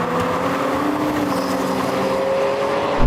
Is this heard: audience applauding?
no